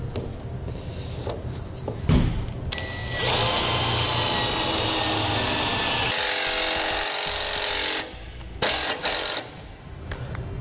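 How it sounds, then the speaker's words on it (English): A power drill drives a self-tapping screw into a metal trailer frame while a trailer tail light is mounted. It runs in one steady, loud whine for about five seconds, with short clicks and handling noises before and after. "I'm going to be using a self-tapping screw."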